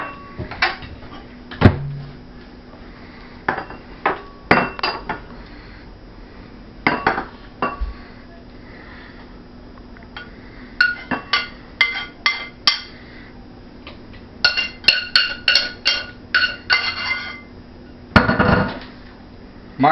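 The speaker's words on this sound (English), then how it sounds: "So I'll just put it in bowls so you can see how much this makes." Plates and bowls clink and knock as ramen is served out, with scattered sharp ceramic taps that come in clustered bursts toward the end, close and fairly loud with no talk.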